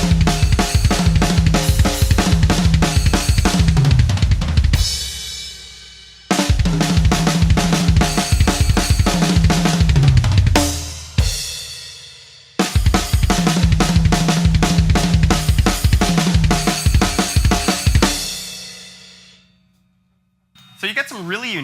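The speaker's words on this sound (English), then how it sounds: "I like to put that left hand on a splash cymbal every once in a while." Drum-kit combination fills with the left hand striking a splash cymbal, played in three loud, dense bursts of rapid tom and snare hits mixed with bright cymbal crashes, each ending in a ringing decay before the next phrase.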